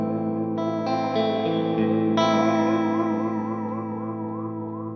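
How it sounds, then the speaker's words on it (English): An electric guitar runs through the EHX Epitome pedal in flurb mode, sustained chords layered with a wavering, warbling modulation and delay feedback that pulses rhythmically as the notes ring out, loud and clean with no talking. "And the flurb is a really interesting kind of sound."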